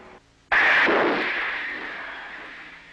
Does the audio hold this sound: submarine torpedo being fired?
yes